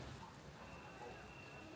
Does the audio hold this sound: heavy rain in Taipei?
yes